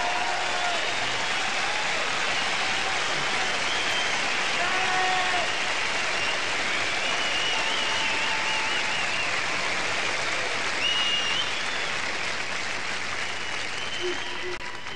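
A large concert audience at a 1990 blues night keeps up loud, sustained applause and cheering, a dense wash of clapping with scattered whoops and voices in the crowd.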